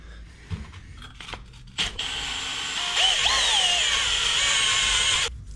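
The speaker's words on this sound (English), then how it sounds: "We're gonna go in here and clean this up with the wire drill thing." A drill fitted with a wire brush cleans the hub of a 2006 Toyota Corolla S after the rear wheel bearing is removed: a few short scraping taps, then a steady close whirring grind for about three seconds with pitch wavering under load before stopping.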